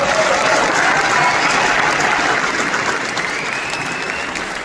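A large crowd at an event in Addis Ababa honoring artist Daniel Ashenafi claps in a dense, continuous burst of applause that stays loud and even throughout, fading only slightly toward the end.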